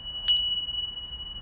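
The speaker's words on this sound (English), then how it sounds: "let me share what this bell sounds like" A single hand bell chime struck once at a women's retreat, ringing out bright and clear and then fading into a lingering tone in an otherwise quiet room.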